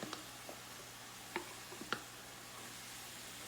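Onion sweating in a pan gives off a faint, steady low sizzle, with a few soft ticks and pops scattered through it and no voices.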